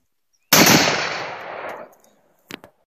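One loud sharp blast from a DPMS Panther AR-10 .308 rifle fired from a bipod at night, its report decaying over more than a second, followed by a brief fainter metallic clatter.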